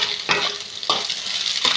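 Egg and potato bhujia frying in a pan: a continuous sizzle with three distinct, close spatula scrapes spaced evenly through it.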